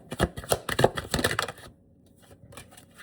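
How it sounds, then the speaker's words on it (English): A tarot deck shuffled and cut by hand, giving a quick run of close, crisp card riffles and slaps for about a second and a half before it drops away to near silence. "And I cut the deck and it's the Empress."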